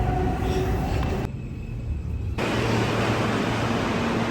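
A subway train roars past in a loud, continuous rushing noise, with a brief dip in the middle before the clatter swells back.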